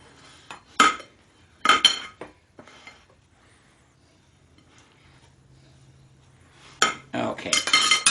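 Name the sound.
bowl and dishes put in the sink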